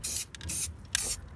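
Spray paint hissing in short bursts while painting a Mazda Miata engine bay, three close, loud sprays separated by brief pauses.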